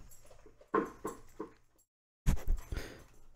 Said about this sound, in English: I hear Jeva rocking his food dish